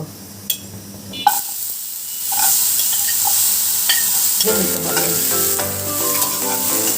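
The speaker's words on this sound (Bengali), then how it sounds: "এমনভাবে ভাজতে হবে যেন পুড়ে না যায় কারণ পুড়ে গেলে তেতো লাগবে এখন আমি নামিয়ে ফেলবো দেখেন শব্দ হচ্ছে তার মানে বোঝা যাচ্ছে যে ভাজাটা হয়ে গেছে" Dried ribbonfish (churi shutki) frying in a pan, a continuous loud sizzle and crackle with a few sharp clinks of stirring at the start, growing denser and busier toward the end.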